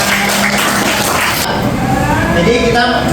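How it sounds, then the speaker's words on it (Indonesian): Audience applause in a classroom-style lesson on environmental care, a dense wash of clapping filling the whole three seconds at steady loudness, with a busy crowd murmur behind it. "Luar biasa, tepuk tangan."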